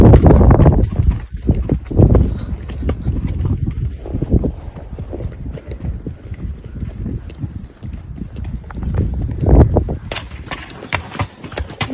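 Horse hooves clip-clop steadily along a rocky, gnarly mountain crest trail, close and fairly loud, with irregular uneven steps and some brief rustling between them.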